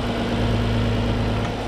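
A Nissan 300ZX Z32, about thirty years old and with freshly changed accessory belts, idles steadily up close, a smooth, even engine hum with a low droning rumble and no talk over it.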